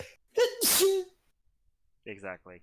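A single loud, close sneeze with a sharp gasping intake, followed by a short pause and then brief speech.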